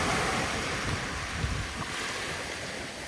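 Ocean waves wash steadily onto a beach in a continuous broad roar, with wind buffeting the microphone throughout and no voices.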